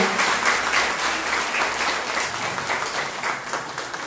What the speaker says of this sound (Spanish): Quiero por favor que todos nosotros le brindemos un fuerte voto de aplausos y nuestro aprecio al doctor José Reinaldo López Viera